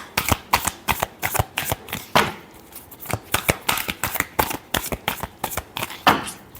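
Tarot cards being shuffled by hand in quick, crisp riffling bursts, close and clear, repeating in an uneven rhythm with no talk.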